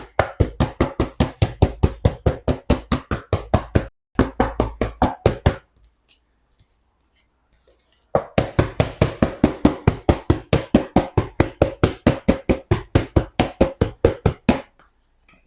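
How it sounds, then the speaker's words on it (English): A macaron baking tray rapped repeatedly against a counter to knock air out of piped Christmas tree macarons, a long run of sharp, evenly spaced knocks, loud and close, pausing briefly twice before resuming. "knock the air out of them. Tap in the tray."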